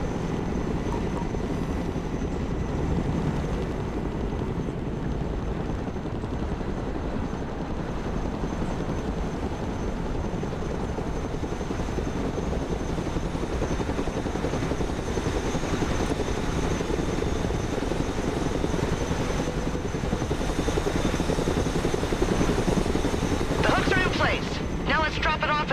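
A cargo helicopter from the Broken Arrow war game holds a steady, continuous rotor and engine drone throughout. It stays loud and even, with faint crackles near the end.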